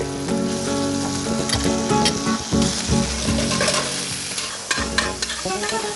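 Duck meat fries in extra virgin olive oil with a loud, continuous sizzle close by, punctuated by scraping stirs and pan clatter, with no talking.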